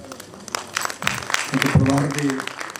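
Scattered hand claps from an audience at a book release event break out and build, mixed with people talking over them.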